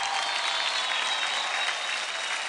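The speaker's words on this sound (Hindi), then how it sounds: "जोरदार तालियां हो जाए" Loud, dense applause from a studio audience on a TV dance competition show, continuous and even clapping with a crowd murmur throughout, no speech.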